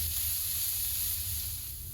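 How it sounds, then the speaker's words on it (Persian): Chopped onion sautés in a pan with a spoonful or two of oil, producing a steady, close sizzling hiss with a low hum beneath and no voices. "داخل تابه 1-2 قاشق روغن بریزید. پیاز رو تفت بدید تا طلایی بشه."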